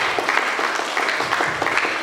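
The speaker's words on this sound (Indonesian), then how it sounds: "Tepuk tangan untuk kalian." An audience claps steadily and densely throughout, a continuous wash of applause at a youth gathering in Sumba, with no pauses.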